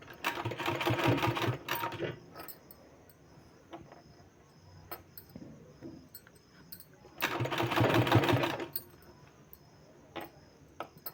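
A sewing machine stitches a palazzo pant in two loud, close runs of steady rapid whirring, separated by a quieter pause with light handling clicks.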